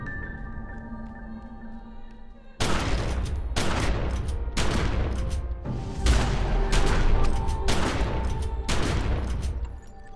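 Shotgun blasts in The Secret World game, a series of about nine heavy booming shots fired at an uneven pace over a constant low background hum, loud and close, no talking.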